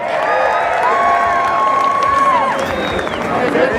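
A crowd at a county fair destruction derby cheers, whoops and shouts steadily and loudly, with whistles and scattered shrill voices, as if rooting for the number 38 Morton Racing car.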